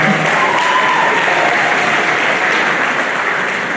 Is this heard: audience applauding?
yes